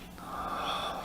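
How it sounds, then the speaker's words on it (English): A single slow, deep inhalation during a guided relaxation, soft and close with an airy, slightly wheezy quality. "So let's take a deep breath in."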